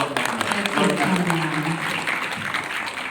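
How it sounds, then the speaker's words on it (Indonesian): An audience claps at a community small-business event with the city mayor, a mix of applause and crowd voices heard together, with talk running through it. "Tepuk tangan"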